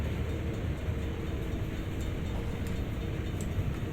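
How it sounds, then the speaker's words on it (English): A freight train rumbles past in Train Sim World, a CSX heavy haul setting, heard as a steady, continuous low rolling drone of railcars with faint high squeals, heard from inside a cab with no talk. "Oh, we have another train coming through."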